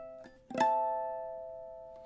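Ukulele playing measure 16 of a song: a soft strum followed by a single sustained chord that rings out and slowly fades, quiet and alone.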